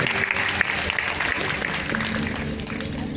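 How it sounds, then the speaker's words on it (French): Church congregation clapping hands together in a sustained, dense round of applause, loud and close, with a faint voice mixed in. "clap your hands"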